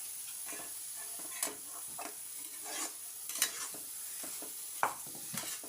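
Onions and masala fry in a pan for biryani, with a quiet sizzle under repeated irregular stirring scrapes and clicks of a spoon, close by and without talking.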